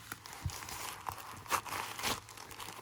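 Jewelry packages being unwrapped, a soft, low-level crinkling and tearing of wrapping with a few sharper rustles spread across the moment, close by and without talk.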